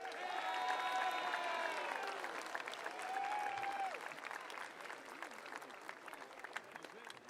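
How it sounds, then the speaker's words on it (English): At the Manasquan High School 2024 graduation, a crowd applauds the graduating class from a distance, faint and hall-like. Whooping, cheering voices rise over the clapping early on, then the clapping continues more thinly. "How about one more round of applause for the class of 2024?"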